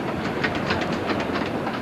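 A train running on a rural branch line through flat Somerset countryside, a steady loud rolling rumble with rhythmic clickety-clack of wheels over rail joints throughout.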